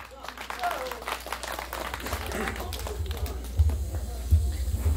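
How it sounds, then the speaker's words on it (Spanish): Guests at a civil wedding ceremony clap in a moderate, uneven ripple that grows slightly louder over the clip, with voices murmuring underneath. "Recibamos con fuerte voto de aplausos a Magno Flores."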